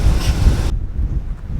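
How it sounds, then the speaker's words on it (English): Strong wind buffets the microphone outdoors beside a four-wheel-drive vehicle in muddy terrain, a loud low rumble that is full and gusty at first, then drops to a steadier, duller roar. "Sorry for the wind."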